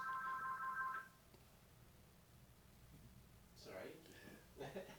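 A phone rings with a short electronic tone in the first second of a podcast recording, followed by a near-silent pause and then people beginning to talk.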